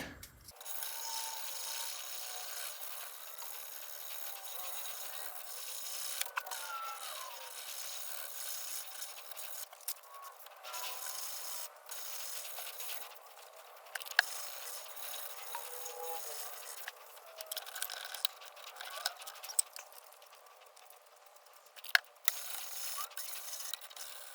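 A knife blade is rubbed steadily over 600-grit abrasive in long, continuous rasping strokes, close and fairly loud for the whole stretch, with no talking.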